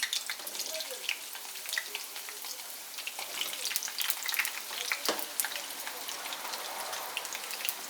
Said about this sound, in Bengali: আলুগুলোকে আমি একটু বাদামি করে ভেজে নিচ্ছি